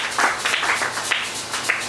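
Church congregation applauding, a short burst of scattered hand claps in a reverberant room, moderately loud and uneven, lasting about two seconds.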